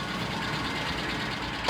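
A 1998 Ford Ranger pickup with a knocking engine runs steadily at idle close by, a continuous mechanical drone ending in a short louder burst.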